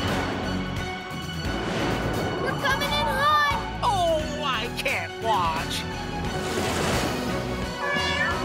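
A cartoon cat meows in a series of short, rising and falling cries over busy background music and children's cartoon voices.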